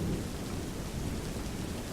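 Thunderstorm in a Dragonbirth fantasy game: dense, steady rainfall hissing across surfaces with low rumbling underneath, soft and continuous throughout with no voices.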